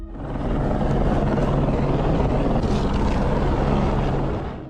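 A rescue helicopter flies over a towering 500-foot cliff, its loud, dense rotor roar throbbing steadily throughout with no voices.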